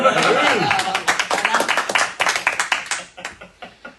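An audience breaks into applause, a moderate burst of clapping close by that thins out over a few seconds into a handful of separate claps before stopping.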